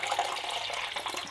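Freshly boiled water from a kettle pours steadily in a continuous splashing stream while rinsing and topping up a honeysuckle mead brew, close and moderately loud with no talking.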